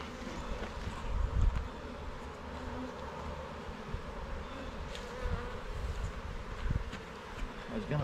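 A dense, steady buzzing of a honey bee swarm hums softly throughout, with occasional close fly-bys and faint rustling.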